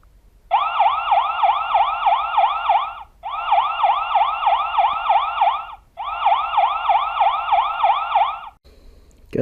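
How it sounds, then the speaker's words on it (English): Three bursts of a rapid warbling electronic siren from a Viziuuy 5MP solar-powered outdoor security camera, loud and close, each lasting about two and a half seconds with brief gaps between. "You can even do the siren."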